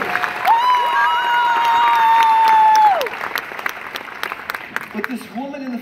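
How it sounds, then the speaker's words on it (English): At a church night out with an illusionist, a crowd breaks into loud applause and cheering, a long sustained whoop riding over the clapping before the applause thins and a voice begins speaking. "Please give her a big round of applause."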